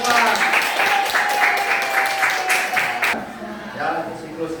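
A class group applauding together, dense clapping for about three seconds with voices mixed in, then fading to lighter claps and chatter.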